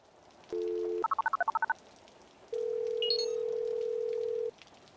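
Phone dialing in the video game Gemini Rue: a steady dial tone, then a quick run of about ten keypad beeps, and a long steady ringing tone. The sounds are clear and close, with no talk.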